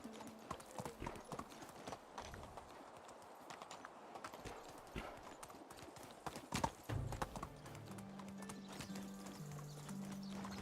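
Horse hooves clop in a steady riding rhythm in the medieval village game Medieval Dynasty, close and moderately loud, with a brief whinny and soft game music rising near the end.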